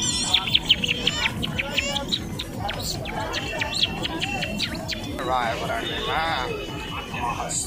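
A person imitates the chirping call of a small bird that sings around five in the morning, producing repeated tweeting whistles, with other people talking and murmuring around it.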